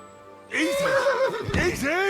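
A horse whinnies loudly and close in the medieval game Kingdom Come: Deliverance II, a falling, wavering call under a man's spoken reaction.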